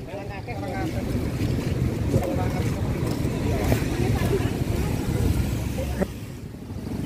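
The Brantas river, flooded after two days of heavy rain, gives a loud, constant roaring rush of water close by, mixed with wind buffeting the microphone, as someone talks over it.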